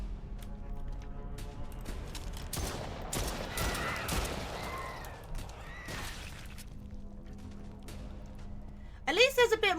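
Monster-shooting combat in the horror video game Stray Souls, with a cluster of gunshot bursts and impacts through the middle, a sharp rapid volley near the end, and game ambience and talk underneath.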